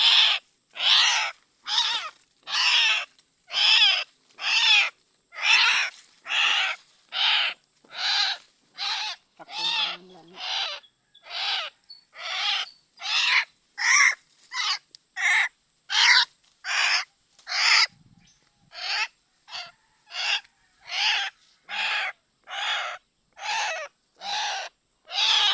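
A bird gives loud, eerie, owl-like calls in a steady series of about thirty harsh, evenly spaced cries, close and alone with no talk.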